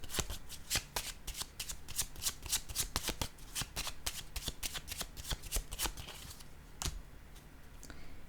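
A deck of tarot cards being shuffled close up, a steady run of quick crisp riffling flicks with a few louder snaps, heard alone without talk.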